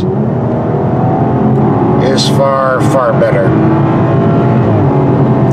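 A 2017/2018 BMW X4 M40i's turbocharged six-cylinder engine drones steadily under acceleration on a curving road, a loud constant hum heard inside the cabin while someone talks over it.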